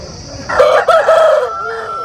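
A lively two-year-old Aseel rooster weighing about 4.5 kg crows once, loud and close, a drawn-out strained call with a brief break midway, at a Saturday poultry market in Mydukuru.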